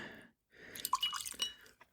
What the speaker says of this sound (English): I'm going to pour a little bit in the glass